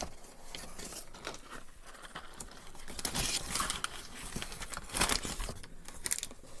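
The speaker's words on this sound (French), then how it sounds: "Je vous donne un petit sachet en papier." A small paper bag for pharmacy medication crinkles and rustles up close in an irregular series of crisp handling sounds, growing louder and busier toward the middle and end, with no talking.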